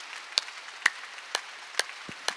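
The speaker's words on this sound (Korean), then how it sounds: "박수 세게 치라니까 이게 뭘 어렵게 해. 더 세게 쳐." Congregation at a Korean Wednesday church service claps in a slow, even rhythm, five or six sharp hand claps spaced about half a second apart over a quiet room.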